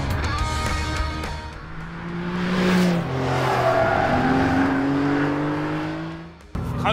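A 2022 Porsche 911 GTS with 480 hp brakes hard and accelerates again on a race circuit. Loud, close engine note rises and falls through the gears, with a faint tyre squeal, and the engine stays dominant throughout.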